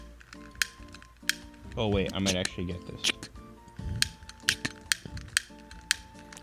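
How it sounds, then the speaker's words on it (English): Metal carabiners being clicked together, sharp metallic clicks and clinks repeating irregularly, close, with a person talking partway through and a faint tonal hum underneath. "That's the sound of me clicking in carabiners"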